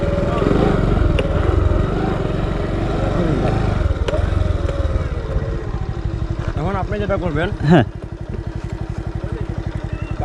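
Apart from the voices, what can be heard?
motorcycle engine running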